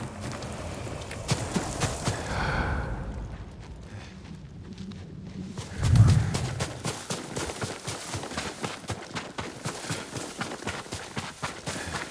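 A horse in the video game Ghost of Tsushima clip-clops with rhythmic hoofbeats, fading briefly mid-way and then returning as a quicker, closer run, with no talking.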